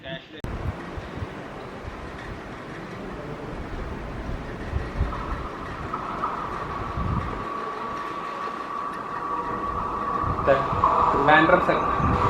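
The Secunderabad–Trivandrum Sabari Express passes a station on Indian Railways with a steady, loud rolling rumble and a sustained mechanical hum that grows toward the end.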